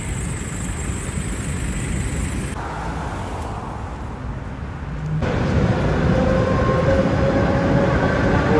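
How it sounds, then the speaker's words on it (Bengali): A train rumbles past nearby in Moscow in a steady, loud roar that swells partway through, with no voices. "ট্রেন যাচ্ছে।"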